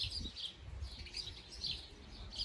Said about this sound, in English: Sparrows, there must be about 50 in the garden.